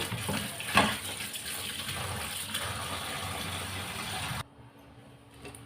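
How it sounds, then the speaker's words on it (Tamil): Spinach greens (seema ponnanganni keerai) being rinsed under a running kitchen tap, a steady close splash and gush of water that stops abruptly near the end, leaving a quiet room. "இதெல்லாம் கீரை நல்லா கழுவிக்கிடலாம்."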